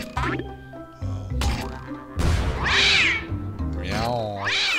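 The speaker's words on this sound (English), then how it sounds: "Meow." Repeated cartoonish cat meows from the puzzle video game Contraption Maker, several bright rising-and-falling cries in quick succession, loud and close over game background sounds.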